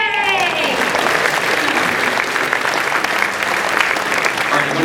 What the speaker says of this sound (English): Hey, round of applause for that.